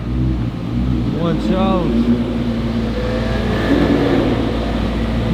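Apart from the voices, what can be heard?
McLaren P1 supercar driving past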